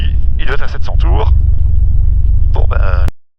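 A Cessna 172 piston engine runs on the ground during run-up as a low steady rumble, with someone speaking over it before the sound cuts off abruptly.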